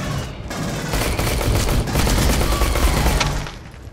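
Automatic pistol fire in the game Aliens: Colonial Marines, a dense, rapid stream of shots that stays loud for about three seconds and then cuts off.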